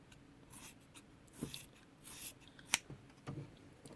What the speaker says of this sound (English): all I'm going to do is come around and trim